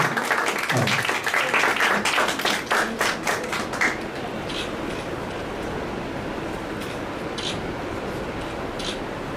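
At a career seminar, parents and guests clap for a student, loud rhythmic clapping in the first few seconds that thins into a softer, scattered patter of applause for the rest.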